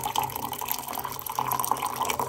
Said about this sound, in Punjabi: ਇਹ ਪਾਣੀ ਜ਼ਿਆਦਾ ਗਰਮ ਹੈ ਇਹਦੇ ਥੋੜਾ ਠੰਡਾ ਪਾਣੀ ਪਾਇਆ ਜਾਊਗਾ